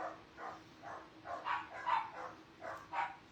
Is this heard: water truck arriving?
no